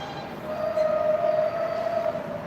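A train rolls by on an overhead track, a continuous low rumble with a steady whining wheel squeal that swells in the middle and eases off, heard from below with no voices.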